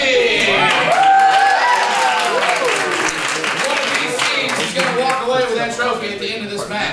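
Audience applause and cheering at a high school comedy improv match, a loud continuous wash of clapping and crowd noise with whoops and raised voices running throughout.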